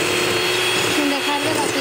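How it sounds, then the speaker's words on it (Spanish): An electric hand mixer beats egg whites to stiff peaks and then the yolks, a steady, loud whirring drone with a tonal hum that runs the whole time, while a voice speaks over it. "vamos a llevar las claras a batir hasta que estén a punto de nieve"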